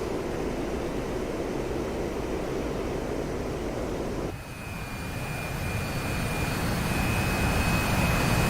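A jet engine roars loud and steady in the DCS World flight simulator. The sound briefly dips and then builds again as the throttle is pushed forward.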